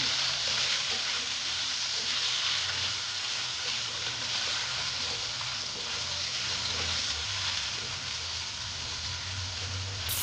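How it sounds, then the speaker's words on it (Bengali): Thick-cut potatoes with a little turmeric fry in a pan, giving off a steady, close hiss and crackle that carries on evenly throughout with no talk. "দেখো, আলুটা বেশ মোটামুটি মোটা মোটা তো, সেই জন্য একটু ভালো মতো ভেজে নিচ্ছি।"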